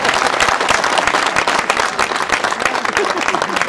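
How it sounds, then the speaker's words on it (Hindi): A live audience claps loudly and continuously during an interview event, producing dense, close applause with some crowd murmur mixed in. "ताली मार के"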